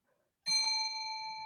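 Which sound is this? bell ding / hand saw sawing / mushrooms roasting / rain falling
bell ding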